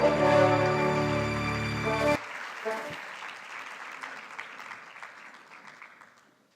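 Audience at a Falles awards ceremony in Aldaia applauding, a round of clapping beginning under loud music that cuts off, then continuing alone and gradually fading away.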